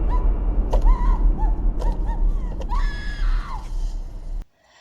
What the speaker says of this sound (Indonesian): Setelah si wanita masuk ke dalam mobil, tidak lama kemudian terdengar suara teriakan.